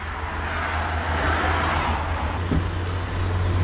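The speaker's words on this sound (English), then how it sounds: "I apologise for the road noise" Continuous road traffic noise heard aboard a Fairline Squadron 53 yacht in a marina, a broad steady rush with a low engine rumble underneath, fairly loud and close.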